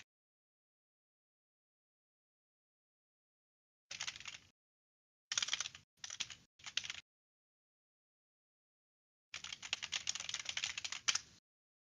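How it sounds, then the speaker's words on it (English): A computer keyboard clatters in separate short bursts of quick keystrokes broken by silences, close and fairly crisp, with a longer run of typing toward the end. "I'll type in the race from here."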